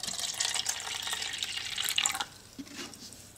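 Hydroponic nutrient solution is poured from a container into a cup for indoor lettuce, a close, trickling splash of liquid lasting about two seconds before fading to quiet drips.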